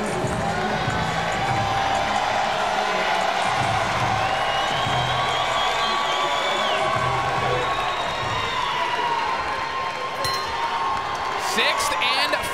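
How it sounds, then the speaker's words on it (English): Boxing arena crowd at a fight between Haven Brady Jr and Andre Rodriguez, cheering and shouting in a steady, dense roar before the sixth and final round, with whoops and scattered shouts throughout and a commentator talking over it. "the crowd is certainly getting into this one after round 5"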